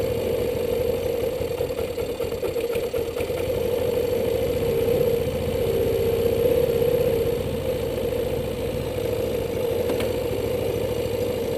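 A GY6 Chinese 150 or 50 cc scooter engine idles steadily during carburetor tuning, with a constant close mechanical hum and light clatter and no one talking.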